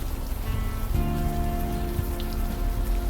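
Steady rain falls on city streets in the game Unavowed, a dense continuous hiss of drops on pavement with a soft tonal ambient drone underneath and no talking.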